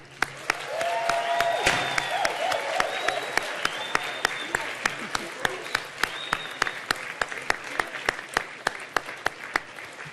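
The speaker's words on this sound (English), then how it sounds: "Let's cheer and applaud the graduating class of 2017." A large graduation ceremony audience applauds and cheers, sustained clapping with whoops that gradually thins to scattered, evenly spaced claps.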